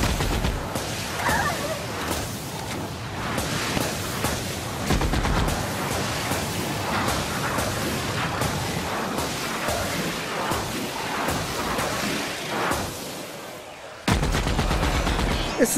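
Sustained, dense gunfire from the PS4 game The Outer Worlds, with rapid overlapping shots and bursts filling the whole stretch at loud, near level, and a brief lull before the firing resumes.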